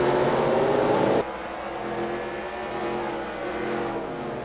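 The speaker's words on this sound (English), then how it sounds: "Shrigley continues the battle with Carter Belair." Race cars from a racing video game battle for position at Brands Hatch, a steady loud engine drone with a sudden drop in level partway through, continuing alone without talk.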